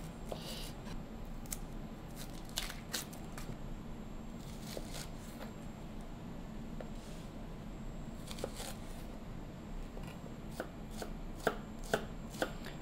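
Shallots finely minced with a knife on a board, with rapid bursts of light, quick chopping taps that come in clusters, fairly faint and close.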